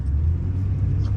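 A Ford Taurus V6 idles with a low, smooth, steady rumble from inside the car. The sound is close and fairly loud, with no clear rise in revs over the short stretch and no talking.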